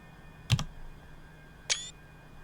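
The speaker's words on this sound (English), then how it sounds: "Actually, what I might do is take a screenshot from here." Two sharp camera-shutter clicks for a screenshot in the Train Sim World 6 video game, close and crisp, about a second apart over a quiet low hum of the train.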